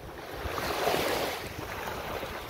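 Ocean waves break over a sandbar off Lover's Key beach, a steady rushing wash of surf that swells slightly and stays far off, with wind buffeting the microphone.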